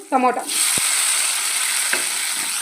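Onion fries in a pan for okra chutney with a smooth, even sizzle that holds steady and close after a brief voice-like sound at the very start, with a couple of faint clicks.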